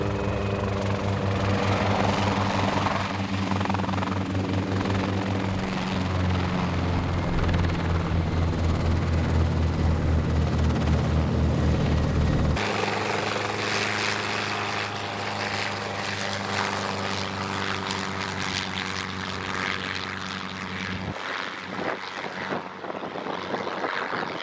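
Light aircraft engine droning steadily and loudly overhead during a giraffe herding capture in the bush, its tone shifting about halfway through and fading away near the end, with no talking.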